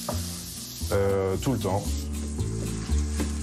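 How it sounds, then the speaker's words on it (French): Risotto being stirred in a saucepan as vegetable broth is added little by little, a steady sizzle and scraping running throughout, with a person talking over it. "on va mettre un petit peu de bouillon au fur et à mesure en touillant bien"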